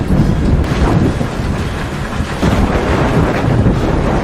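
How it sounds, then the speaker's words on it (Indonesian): Heavy thunder in a film scene rumbles loud and continuous, a deep rolling roar with a storm's wash that swells again midway, with no voices. "tiba-tiba Levi terbangun karena suara petir"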